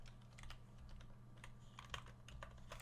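Quiet, close clicks of a computer keyboard as the word golem is typed during a Minecraft session, a short run of irregular soft keystrokes.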